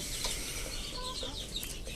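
Native desi chickens on a small egg farm cluck softly and steadily, the calls scattered against a constant noisy farmyard background with no talking.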